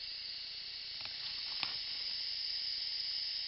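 Etching primer hissing steadily from a spray can or gun onto the roof of a 1952 Chevrolet Fleetline, a continuous bright spray with no break and a couple of faint knocks partway through.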